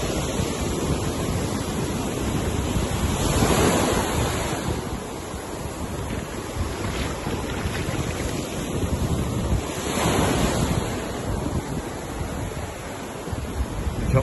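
Ocean waves washing onto a resort beach, a loud continuous roar of surf with swells rising and falling, mixed with wind buffeting the microphone.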